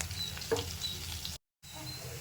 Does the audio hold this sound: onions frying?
yes